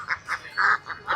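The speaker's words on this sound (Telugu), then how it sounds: "అలా బాతులు కూడా ఉన్నాయి" Ducks at a Sunday bazaar in Erragadda, Hyderabad, quack in a run of five or six short, nasal calls, close and fairly loud, with the last few coming quicker.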